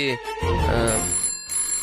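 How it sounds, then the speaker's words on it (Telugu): A telephone rings with a bright electronic ringtone in short repeated bursts, close and clear. "అంకుల్ ఫోన్ వస్తుంది, ఒకసారి చూడండి"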